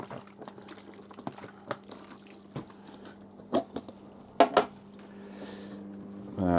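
Rinse water is poured out of a 35mm black-and-white film developing tank, giving a soft splash and trickle, with scattered clicks and clunks of the plastic tank being handled.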